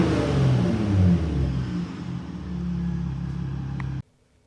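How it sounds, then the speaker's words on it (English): A 2023 Ford F-150 Raptor with a V6 engine revs through its exhaust, a loud, deep rumbling roar that rises then settles into a steady drone before cutting off abruptly near the end, with no talk. "So you can change the exhaust noise, and we'll take a listen to how it sounds."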